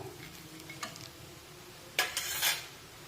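Fried leftover-chapati chivda with peanuts and coriander tossed in a pan: a few soft scrapes and clinks early on, then a louder burst of stirring and utensil scraping against the pan near the end, close and without talk.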